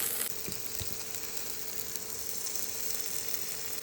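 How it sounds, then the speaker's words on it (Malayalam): Eggs poured into a hot pan fry with a loud, steady, close-up sizzle that carries on without a break. "അപ്പോൾ നമ്മൾ മുട്ട ഇതിലേക്ക് ഒഴിച്ചിട്ടുണ്ട്."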